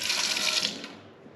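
Tap water runs steadily in a compact apartment kitchen in Bariloche, Patagonia, a loud hissing splash that fades toward the end, with no talk.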